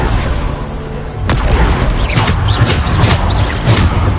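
The Bombarda explosion spell in the video game Hogwarts Legacy, heard as a loud sudden booming blast after a rumbling buildup, then a series of crackling impact bursts, all close and loud, with no talking.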